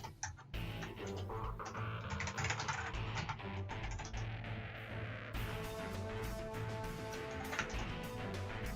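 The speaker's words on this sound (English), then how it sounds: "one thing I do need to fix is this keyboard, because I tell you what, it must be so annoying listening to that" A noisy computer keyboard clatters with steady, fast typing during a live stream, close and continuous with bursts of rapid keystrokes and no talk over it.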